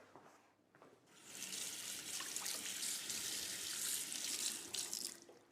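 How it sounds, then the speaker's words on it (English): Kitchen tap water runs steadily into a sink as a knife is rinsed clean after chopping prunes, a close, continuous rushing splash that starts after a brief pause and carries on to the end, with no talking. "I'm just going to wash my knife."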